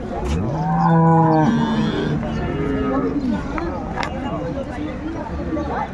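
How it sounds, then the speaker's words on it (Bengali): A dairy cow and calf moo loudly at a busy cattle market in Jashore, several drawn-out calls close by over background chatter and crowd noise. "বেশ সুন্দর গাভী বাছুর"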